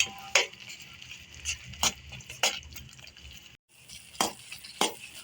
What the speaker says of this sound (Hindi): मैंने इसके अंदर कलर भी अच्छे से मिक्स कर लिया है